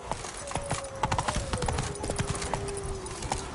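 Horse hooves clip-clopping at a steady galloping rhythm in The Witcher 3 video game, close and clear, with a game music tone sustained underneath.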